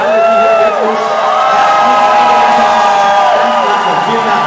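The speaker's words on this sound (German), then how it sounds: "Einen großen Applaus bitte für alle, die hier mit uns" A festival audience at a choir night claps and cheers for the team behind the show, a loud sustained wash of whoops and applause with a presenter's amplified voice speaking over it.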